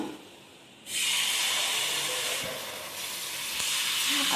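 Dosa batter, a sour pullattu made from mixed leftover flours, hits a hot pan and breaks into a loud, steady sizzle after a brief quiet start, hissing on without pause.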